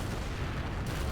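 Dense, rumbling artillery fire booms from Soviet superfortress guns in Men of War, packed into one short noisy burst with no pauses.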